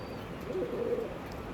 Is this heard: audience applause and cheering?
no